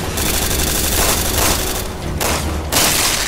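Rapid bursts of gunfire from the video game Resident Evil 6, loud and dense, with booming shots in quick succession and brief gaps between volleys.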